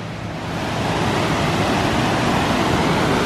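A constant, broad roar of rushing water fills the air, loud and steady without pause, from a nearby waterfall near Mammoth Lakes.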